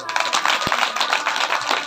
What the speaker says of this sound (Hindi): आपके लिए ताली।